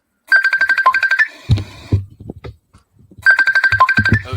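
A phone ringtone plays a repeating electronic melody in two bursts, with a lower thumping sound and pauses between them, fairly loud and close, with no talk over it.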